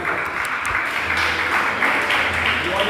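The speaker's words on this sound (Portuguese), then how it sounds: "Aplauda ele." A church congregation applauds steadily for about three seconds, a dense and even wash of clapping with no break.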